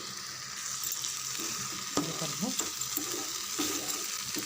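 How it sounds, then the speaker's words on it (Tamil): Masala for an egg gravy sautéing in oil in a pan, with a steady close sizzle and occasional stirring scrapes and clinks, no voices. "இன்னும் ஒரு நிமிஷம் நல்லா வதக்கி விடுங்க இப்போ தான் லைட்டாக எண்ணெய் பிரிஞ்சு வருது"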